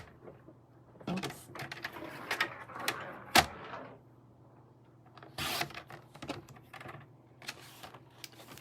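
Cardstock for a card is cut on a paper trimmer, sharp close clicks and slides come in short bursts, separated by quiet gaps over a low hum, with no talking.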